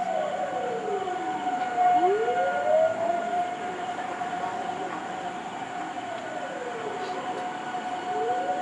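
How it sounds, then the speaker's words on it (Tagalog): An ambulance siren wails at a night fire in Paranaque, its rising and falling sweeps steady and fairly close, sounding alone over a low background hum. "Ang ambulansya to. Ang ambulansya."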